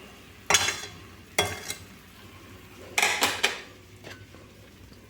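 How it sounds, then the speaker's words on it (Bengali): A spoon scrapes and knocks against a pot while sugar is stirred into tomato chutney, giving a few separate metallic clinks spaced a second or so apart over a faint background hiss. "চিনিটা ভালো করে মিশিয়ে নিলাম"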